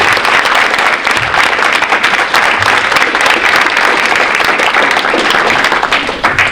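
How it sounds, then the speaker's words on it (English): Loud, dense applause from a school crowd at a fall sports awards event honoring student athletes, steady clapping filling the whole stretch without letup. "So round of applause for our student athletes."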